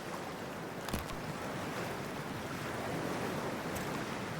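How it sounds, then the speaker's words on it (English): Steady splashing and rushing water as a character wades into cold water in Cyberpunk 2077, a continuous broadband wash with a faint click near the start. "Freezing-ass water, here I come"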